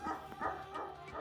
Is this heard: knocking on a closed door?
no